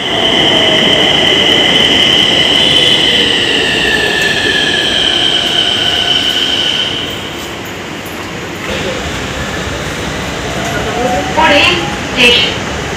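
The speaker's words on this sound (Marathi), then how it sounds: "हे आली आपली मेट्रो" A Nagpur metro train rumbles in and slows, a high whine fading as it brakes, followed by quieter squeals and clunks as it comes to a stop.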